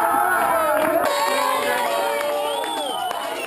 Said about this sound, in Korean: 우승자에게 진심을 담은 축하와 환호가 여기저기서 터져나옵니다